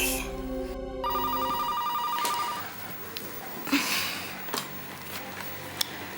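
A telephone rings briefly with a short electronic trill, then stops, followed by quiet handling and faint clicks.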